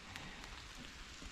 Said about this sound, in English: it's raining today, so it's a bit boggy in places